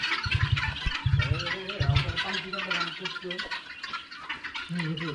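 A hungry turkey at a family park farm in Qatar calls with a few short, low, throaty bursts early on, then fades under steady nearby conversation and other fowl sounds.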